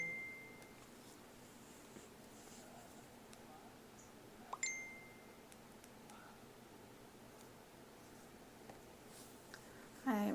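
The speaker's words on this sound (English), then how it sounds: "I put my phone on Do Not Disturb, but it still went off." A phone notification chime rings out once, a short bright ding partway through, over quiet room tone with faint game sounds, and a brief click near the end.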